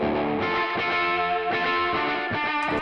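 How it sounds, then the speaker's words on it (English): Distorted electric guitar playing sustained, gritty chords with echo, the dry signal panned left and the echo send panned right, loud and steady with no talking. "sending the dry guitar to the left, and the echo send is sending out to the right"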